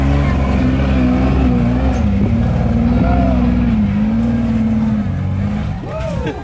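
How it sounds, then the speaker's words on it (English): Rock racing car engine at a WERock Grand Nationals shootout in Farmington, NM, loud and rough, revving then sagging and bogging down at the gate, with an announcer talking over it. "Engine just bogged down, was not able to get the bounce that he needed out of that."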